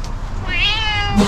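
A cat gives one drawn-out meow close by, rising then falling, with a short sound right after it.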